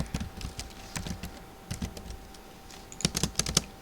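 Someone types on a computer keyboard, entering text into a batch program. Irregular bursts of close, crisp key clicks run throughout, with a quick flurry near the end and no talking.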